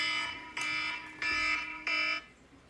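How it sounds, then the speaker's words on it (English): An alarm beeps three times in an even rhythm, each tone lasting about half a second, clear and moderately loud with no talking over it. "that was an alarm for something."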